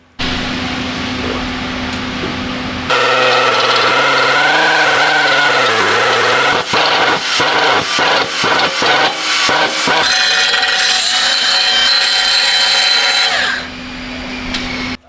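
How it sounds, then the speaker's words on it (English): A power drill bores into the exhaust pipe of a Ford Bronco for an O2 sensor bung, a loud sustained whine with grinding bursts, starting and stopping abruptly. "This is where we found it would be the best place to put it, easiest place to drill. So we'll go ahead and drill it now."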